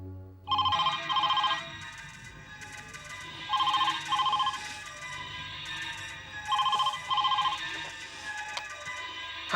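A telephone ringing in a quiet room, three separate double-trill rings spaced evenly a few seconds apart, clear and fairly loud against a low background hum.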